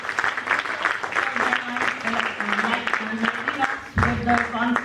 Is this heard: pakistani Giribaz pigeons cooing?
no